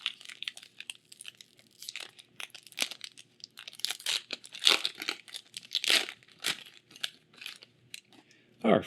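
A Magic: The Gathering Phyrexia: All Will Be One booster pack wrapper is torn open, giving a run of close, crinkly foil rips and crackles in bursts over nearly nine seconds.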